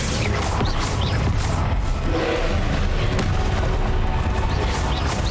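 Confringo blast spell explosions in the video game Hogwarts Legacy, a dense, loud, continuous wash of booms and crackling impacts with no voices over it.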